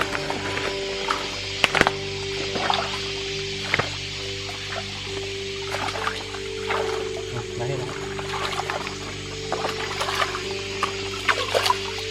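Forest herbs gathered in the jungle being rinsed in water, with splashing, trickling and occasional knocks against wood, while people talk intermittently nearby.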